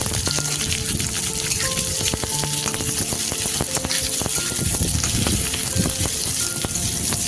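One medium-sized onion fries in oil with whole cumin, giving a steady, dense sizzle that stays loud and even throughout, with faint clinks of utensils scattered over the hiss.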